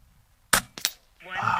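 Air Arms S510XS Stealth Carbine .177 air rifle with a Hawke Frontier scope, fired while plinking in a backyard: one sharp close crack, a quick second snap, then a voice begins.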